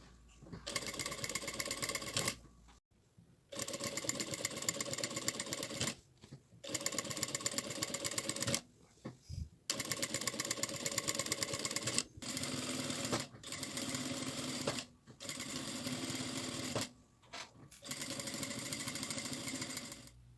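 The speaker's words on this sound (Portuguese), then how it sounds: "E a partir delas eu vou fazendo as costuras das demais." A sewing machine stitching seams on a fabric backpack runs in repeated bursts of rapid mechanical whirring, each lasting one to three seconds, separated by short pauses, close and steady.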